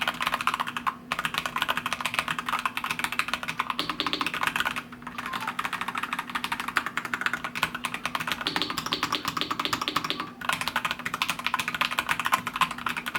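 Rapid typing on a Hator Icefall Mecha Wireless mechanical keyboard with hand-lubricated POM stabilizers, soft muted keystrokes in a dense continuous stream, with a couple of short pauses, close and alone.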